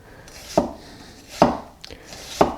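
A Vosteed Minibarbar cleaver knife cuts thin slices from a small onion, giving three crisp, close chops on a board spaced about a second apart, each with a sharp attack and short ring, with quiet room tone in between.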